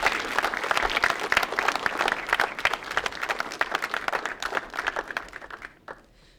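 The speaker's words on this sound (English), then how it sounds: "So a big round of applause for all of those people." Audience applause at a 2015 public schools science fair, a dense, steady burst of many hands clapping that runs for several seconds and then tapers off quickly near the end.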